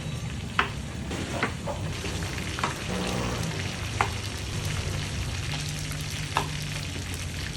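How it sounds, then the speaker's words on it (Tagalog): Sea catfish sizzles and crackles in hot oil in a pan, a constant frying hiss with occasional sharper pops and a few clinks, nearby and moderately loud. "At habang nakasalang ang mga isda sa kawali"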